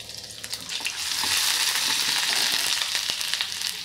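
Mustard seeds and ginger-garlic paste sizzling in hot oil for a masala dosa filling. A soft hiss swells into a loud, steady fry dotted with sharp crackles and pops, with faint stirring underneath.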